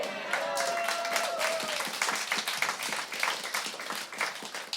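Audience clapping at an Edinburgh comedy preview show, a steady patter of many hands that holds for several seconds, with a voice briefly audible at the start.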